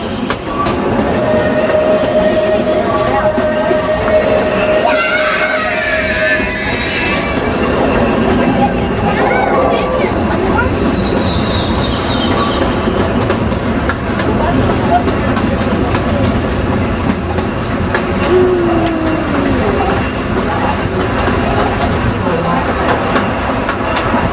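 A steam train on the Disneyland Railroad rumbles steadily along the track with rhythmic clatter and mechanical hiss, voices murmuring faintly in the background throughout.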